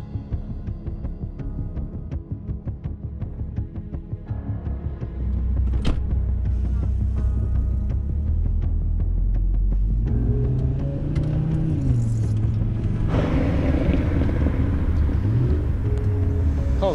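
A car engine rumbles low and steady, then swells louder and revs with rising and falling pitch, close by.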